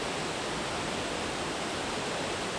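Victoria Falls on the Zambezi River: a dense, continuous roar of falling water, broad and unbroken, steady in level with no other sounds.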